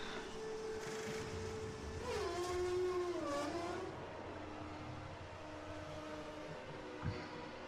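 Faint engine whine from a Formula 1 car pulling out of the pit box in the F1 2013 video game at Monaco, with a pitch that rises and dips as the car accelerates away, under steady background noise.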